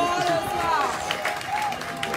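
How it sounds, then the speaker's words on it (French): Applause and cheering from a crowd at a beauty event in a hotel, with voices calling out over the clapping. "tout le monde applaudissez pour vous"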